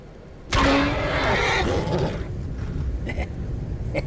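A horse in a game stream lets out one loud, sudden neigh that fades into a long, breathy tail, with some faint clattering afterward.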